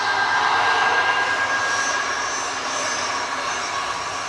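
A Qatar Airways jet arriving at Manchester Airport gives a loud, sustained engine roar with a faint whine, fading slightly toward the end, with no voices.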